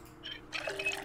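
Water running into a watering can in the Project Zomboid video game, a short faint trickle that swells into a fuller pouring splash, quiet and with no speech.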